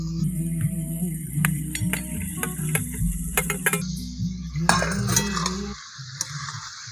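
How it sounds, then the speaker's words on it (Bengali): Spice paste stir-fried with fried guitarfish in a pan, with close clinks and scrapes of a metal spatula against the pan over a low frying hiss, the clatter thinning out near the end. "দেখো মা আরও ভালো করে কষিয়ে নিচ্ছে।"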